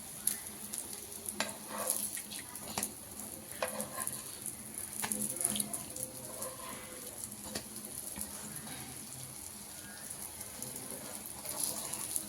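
Brinjal slices fry on a hot tawa until golden and crispy, giving a soft, steady sizzle with faint crackles and pops throughout, close by but quiet, with no talking.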